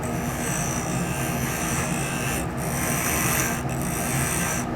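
A carbide tool with negative rake scrapes across a hemp wood pen blank spinning on a lathe, giving a steady, loud, rough hissing rasp with only slight dips.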